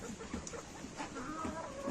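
Hens in an autumn wind, including Leghorns and Dominants, give soft scattered clucks at moderate distance over a constant breezy background hiss.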